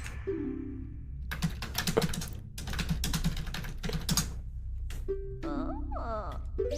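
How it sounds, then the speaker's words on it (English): Fast, irregular clatter of typing on a computer keyboard, close and continuous in bursts, with game sound effects chiming and sweeping in the background. "Also, you might hear me typing on the side."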